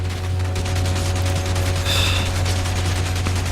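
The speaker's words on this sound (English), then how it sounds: "And I can't shoot right with this gun at all." Rapid gunfire from a gun in the action game Enslaved: Odyssey to the West, heard as a fast, steady rattle of shots over a constant low hum, with one brief brighter burst midway.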